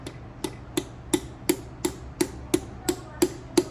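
Steady, evenly spaced metallic taps, about ten in under four seconds, as a piston is driven through a ring compressor into an engine cylinder; close and clear with no talking.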